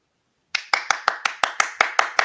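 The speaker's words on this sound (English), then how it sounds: "let me give you a round of applause" One person claps in a quick, even rhythm, nine sharp close hand claps after a brief silence, with no talking.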